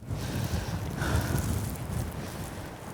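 Wind gusts steadily across an exposed, steep mountain ridge trail in the Beskid Żywiecki, a soft, breathy rush buffeting the microphone with a slight swell partway through.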